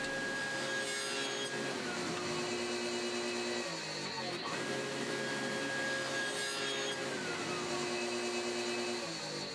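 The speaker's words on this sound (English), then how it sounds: "Then I cut in a couple half laps into 2 of the legs as well as the top sides, sneaking up to the perfect fit." A table saw cuts half laps into wooden stool legs and top sides, its blade whining steadily with two repeated passes of rising and falling pitch as the wood is fed through, loud and close.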